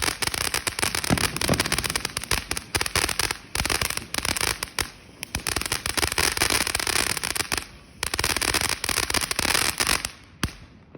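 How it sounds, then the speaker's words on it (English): New Year's firecrackers and fireworks explode outdoors in long, dense bursts of rapid crackling pops, loud and close, broken by a few short pauses. "That was the last firework I set out,"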